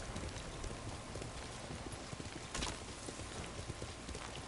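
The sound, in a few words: horse hooves while riding, video game Ghost of Tsushima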